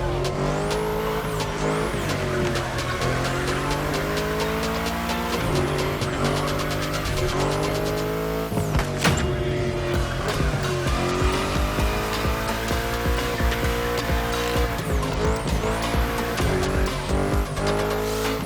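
A race car in The Crew Motorfest screams through corners, its engine revving up and down under repeated sharp tire squeals, loud and continuous throughout.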